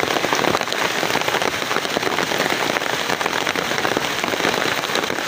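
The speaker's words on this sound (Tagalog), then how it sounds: "Hindi makapag-video ng ayos, ang lakas ng ulan." Heavy rain pours steadily and loudly outdoors during an archery hunt in a storm, a dense unbroken hiss of drops with no talking.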